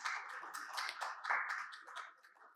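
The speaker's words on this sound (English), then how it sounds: "Please welcome him with a round of applause." Brief, fairly faint applause from a conference audience, a patter of clapping that rises and fades over a couple of seconds.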